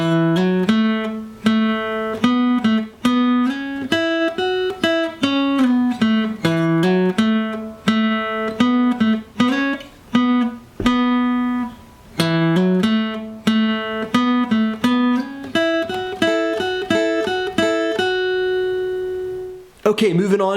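Slow, steady run of single lead guitar notes covers three joined sections of a song's intro solo, close and clean, ending on a long sustained note with no talk.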